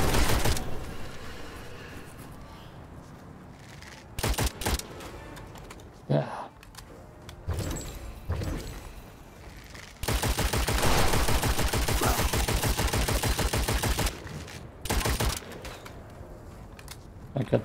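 Bursts of rapid weapon fire in the video game Witchfire rattle in loud clusters, including a long sustained stretch of fast repeated shots, with someone talking between volleys.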